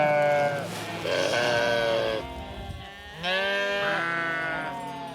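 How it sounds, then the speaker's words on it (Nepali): A flock of sheep bleats loudly and continuously at close range on an open mountain pasture at night, with several overlapping calls of varying pitch and no talk. "भेडाको बथान"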